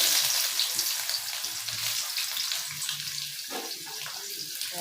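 Onions sizzling in hot mustard oil with bay leaves in a pan for a small-fish curry: a steady, close crackling hiss with a brief stir partway through and no voices.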